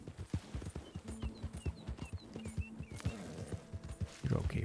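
A horse's hooves clip-clop at a walk in the Red Dead Redemption II video game, a steady close rhythm of light knocks under a quiet game soundscape, with a short burst of noise at the end.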